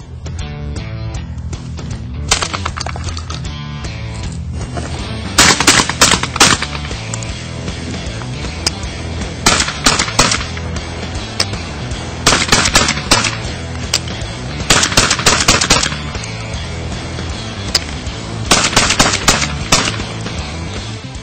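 A Beretta Extrema 2 shotgun fired in rapid strings of shots, several loud, sharp bursts spaced a few seconds apart over a steady background bed.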